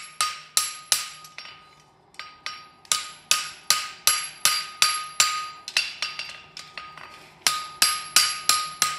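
A farrier's hammer strikes a horseshoe over the edge of an anvil to draw a clip, producing sharp ringing metallic blows in steady rapid runs, with a brief lull partway through.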